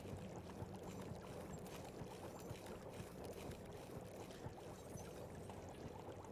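Water filling up in the Spyro video game Ripto's Rage, a steady faint rushing, pouring wash with no breaks, low and continuous throughout.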